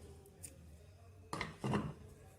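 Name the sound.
scissors cutting yarn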